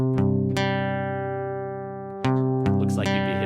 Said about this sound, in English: you were thinking it's a regular guitar, but it's a baritone guitar